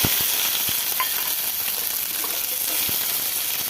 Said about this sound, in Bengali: এবার রসুনগুলো লাল করে ভেজে নেবো।